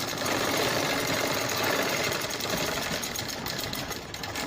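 A sewing machine runs continuously, loud and close, stitching a fabric hair bow with a dense whirring, slightly knocking motor drone that barely changes for several seconds.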